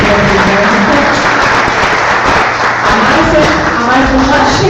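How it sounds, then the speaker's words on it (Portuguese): An audience at a talk applauds a guest speaker with loud, continuous clapping throughout, and voices are heard beneath the applause. "uma salva de palmas para a Márcia"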